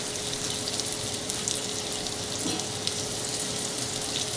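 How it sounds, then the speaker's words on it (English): Sauteed mushrooms deglazed with brandy in a hot pan give off a steady, loud, close sizzle and hiss that holds evenly throughout with no talking. "And I'm going to deglaze it with a little brandy."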